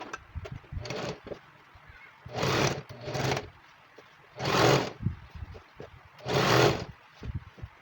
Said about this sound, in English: let me take it to the sewing machine and stitch at 1/2 inch